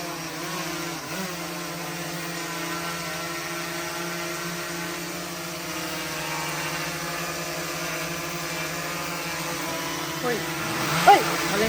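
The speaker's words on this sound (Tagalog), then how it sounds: "O, oh, lumilipad na ang ating drone." DJI Air 3 drone in flight outdoors, a steady high-pitched rotor whine with layered tonal hum holding throughout at moderate level, a brief bump near the end, with a person talking faintly over it.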